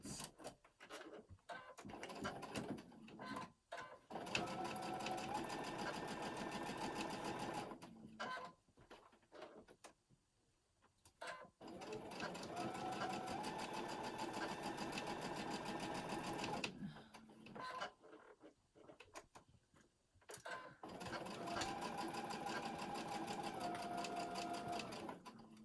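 A home sewing machine running in repeated bursts of steady rapid stitching close by, separated by short pauses, with no talk over it.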